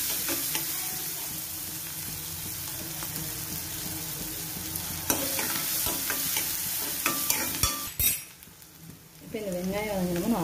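Onion frying with ginger and garlic in a pan for chana masala, a steady sizzle under repeated spoon scrapes and metallic clinks, briefly dropping away near the end as a faint voice speaks.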